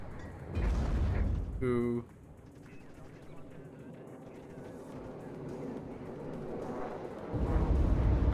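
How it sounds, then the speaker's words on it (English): A BMP launches an ATGM in the WARNO real-time strategy game, a dull booming shot and rumble followed by a long low wash of battle noise, with a brief exclamation from a person and another heavy burst at the end. "BMP fires an ATGM."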